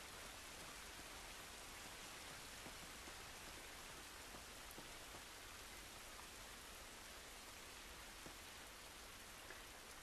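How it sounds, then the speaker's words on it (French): Steady, dense rain hisses evenly across an outdoor scene in The Last of Us Part II, a soft, unbroken wash of drops with no voices over it. "Cette pluie ne va pas nous aider"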